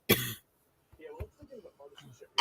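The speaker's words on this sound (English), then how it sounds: "cough don't sound good" A man who had been sanding fiberglass coughs, with one harsh cough at the start and another at the end and quiet talk between them.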